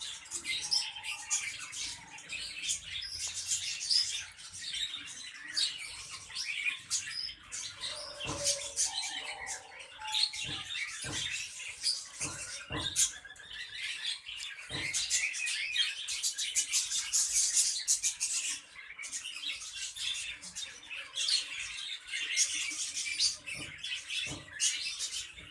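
Budgerigars kept for exhibition breeding chirp, tweet and squawk continuously in a rapid, busy chatter, with sharper calls poking out now and then, fairly close, with no talking.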